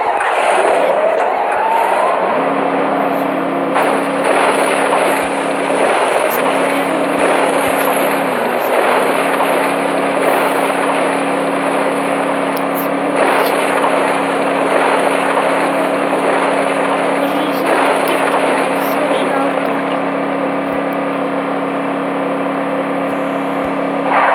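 A car driven in the battle-royale video game Free Fire gives a steady, loud engine drone with a sustained tone that holds throughout, over constant in-game background noise and with no talking.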